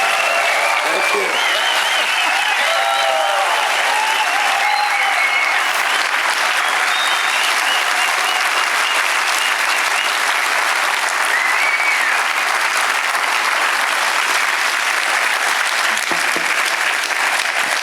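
Audience at a USAFE concert in Bitburg applauding steadily, a dense sustained wash of clapping that holds at an even loud level for the whole stretch, with crowd murmur mixed in.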